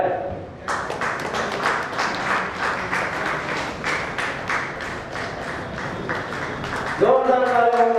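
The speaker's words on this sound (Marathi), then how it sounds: "जोरदार टाळ्यांनी स्वागत करून जावे." An audience claps loudly and steadily for a guest coming onto the stage at a housing society event in Chembur, with dense applause running nearly the whole time and a voice over a loudspeaker cutting in near the end.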